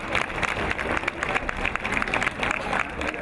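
An outdoor audience at a fashion-show performance in Casalpusterlengo applauds dancers with brisk, dense clapping throughout, fairly close and lively, with no talk over it.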